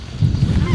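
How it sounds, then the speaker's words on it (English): Snow goose calls made by mouth during a goose hunt, a quick burst of loud, close honking notes lasting under a second, with no talk. "Mouth calling snow geese."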